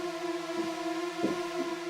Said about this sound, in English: The first layer is a Nexus 2, which is just a saw pad.